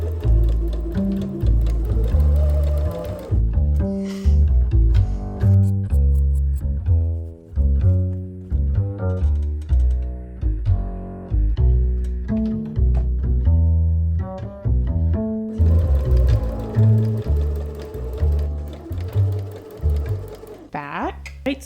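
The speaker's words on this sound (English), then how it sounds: "I'm just going to add the bias tape around the neckline to finish it." A sewing machine stitches bias tape around a garment's neckline, running in rapid chattering bursts with brief stops, close and loud over a tonal background that sounds like music or a voice.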